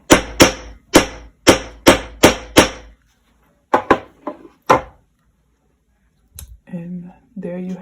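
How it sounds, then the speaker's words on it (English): Hammer strikes metal wire being shaped into a crystal cage necklace: a run of six sharp, evenly spaced taps, a pause, then three more close blows, followed by quiet speech. "I hammer because I like the metal to be a little harder"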